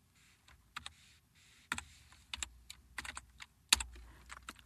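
Typing on a computer keyboard while writing JavaScript code, a quiet, irregular run of crisp key clicks with a few harder strokes, close and alone.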